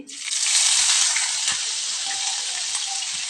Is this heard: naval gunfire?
no